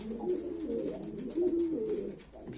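Several breeding pigeons coo in soft, repeated throaty phrases, fairly close and steady, with faint background rustling and no talk.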